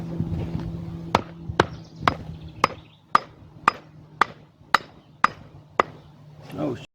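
A leather patch on old pop-up camper canvas, backed by a brick, is struck hard about a dozen times in a steady rhythm, each blow a sharp, close thwack with a brief pause between, and a short murmur of voice at the end.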